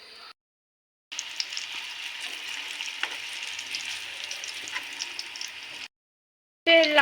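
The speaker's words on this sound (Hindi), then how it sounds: "अब इसके अंदर मैं अपने कोफ्ते डाल दूँगी।" Kofta balls fry in hot oil with a loud, steady sizzle and crackle that starts abruptly, runs for several seconds, then cuts off before another burst begins.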